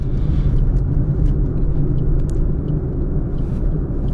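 A Suzuki Swift automatic climbs an uphill road, giving a steady, loud low rumble of engine and road noise from inside the car with no speech over it.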